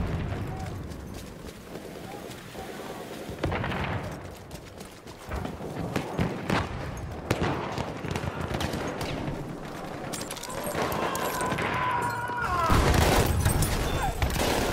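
Sustained automatic gunfire from a Battlefield 1 firefight, dense bursts running almost continuously at close range with louder blasts near the end, while players talk over the shooting.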